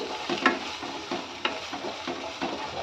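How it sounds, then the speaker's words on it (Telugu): Ground spices, including cumin powder, fry in a pan for rajma curry while a spoon scrapes and stirs in steady repeated strokes over a soft, continuous sizzle, close and moderately loud, with no talking. "ఈ విధంగా ఈ మసాలాలన్నింటిని వేసి కాస్త చక్కగా ఫ్రై చేసుకోవాలి"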